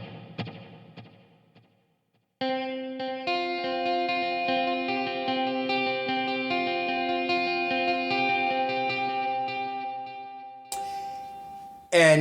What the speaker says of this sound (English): I'm going to add a dotted eighth delay.